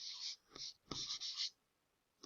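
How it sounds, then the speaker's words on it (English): Pen or pencil writing a name on a paper worksheet: close, scratchy strokes in several short bursts with brief pauses, ending in quiet. "I'm going to write my name on here"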